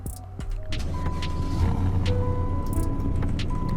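Engine startup of a custom limited car in the Roblox game Greenville, a steady loud low mechanical drone kicking in after a brief lower idle, with a faint tonal whine running over it.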